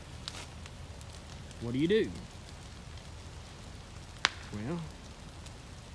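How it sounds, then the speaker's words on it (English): Light rain falls outdoors while brush burns, a steady soft patter of drops throughout. Someone speaks briefly over it, and a single sharp crack stands out. "It's starting to rain."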